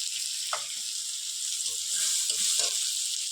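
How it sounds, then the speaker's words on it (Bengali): Chopped onion frying in a pan for a Bengali home-cooked dish, giving a steady, close, bright sizzle with a few soft clinks and stirring scrapes over it. "পেঁয়াজটা একটু ভেজে নিচ্ছি"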